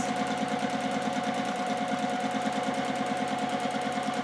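Sewing machine running steadily through free motion quilting lines, a fast even stitching rhythm close and loud throughout with no pauses.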